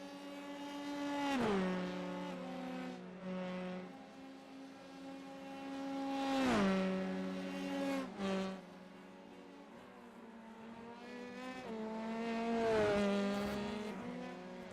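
Formula 3 race cars in a racing game scream past one after another, high engine whines rising and falling with sharp downshifts and Doppler-like sweeps, loud and steady with no talk over them.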